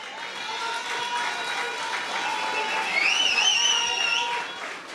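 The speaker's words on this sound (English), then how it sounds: "Lindsay, stand and take a clap, man." A crowd at a political rally clapping and cheering in a sustained, dense patter, fairly loud and steady, with a few voices shouting above it.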